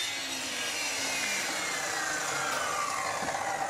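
A handsaw cuts through a wooden floorboard offcut with continuous, close rasping strokes that stay fairly even throughout, with no voices.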